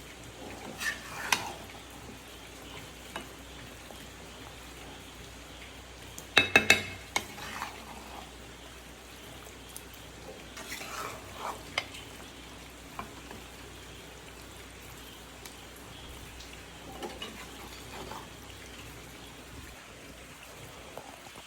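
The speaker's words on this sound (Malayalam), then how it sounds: "നമ്മൾ ആ മസാല നന്നായിട്ട് ഇതിലേക്കിട്ട് മിക്സ് ചെയ്യും" Quiet frying with intermittent scraping as masala is stirred in a pan for chicken curry, plus a brief cluster of louder clatter partway through.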